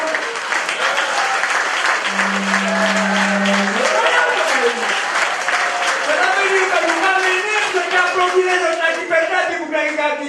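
A crowd at a political speech applauds loudly and continuously, mixed with cheering voices and a brief steady horn-like tone.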